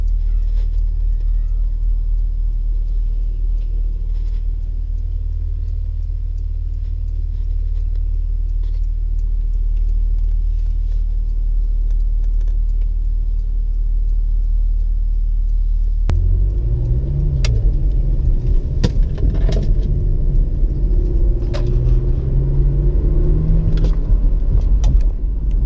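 A 2018 Porsche Macan S, heard from inside while driving, with a low steady engine rumble that changes partway through as the revs rise and drop between smooth gear changes, with road noise and light clicks.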